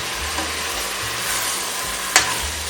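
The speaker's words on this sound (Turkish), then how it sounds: "Şöyle kavuruyorum." Leeks and other vegetables sautéing in olive oil, a steady close sizzle and hiss throughout with a brief sharp clink of a utensil near the end.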